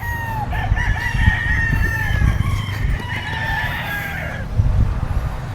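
A white lemon gamefowl rooster with a straight comb crows loudly nearby, a long drawn-out call with a couple of shorter crows overlapping, while other fowl cluck and scratch in a busy farmyard background.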